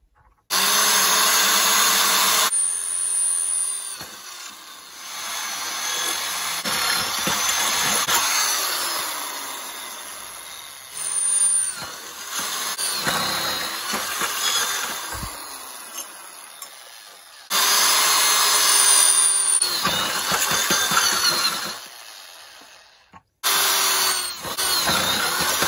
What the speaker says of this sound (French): Et puis je vais percer. On va essayer de faire des trous droits